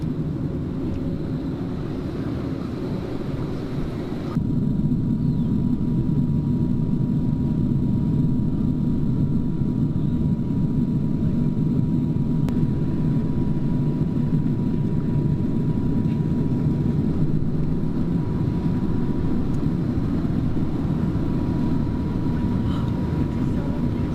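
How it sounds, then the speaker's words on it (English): Cabin of a Qantas Airbus A330-200 airliner descending into Sydney, a steady broadband roar of engines and airflow that rises slightly after the first few seconds and holds constant. "By this stage, we were already at the top of our descent into Sydney Airport."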